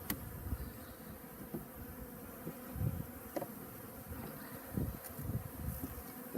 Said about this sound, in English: I got too many bees up here.